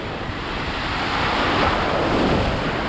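Waves wash in on the Atlantic shore at Daytona Beach, Florida, a dense, steady surf rush that swells slightly toward the end, with wind rumbling across the microphone.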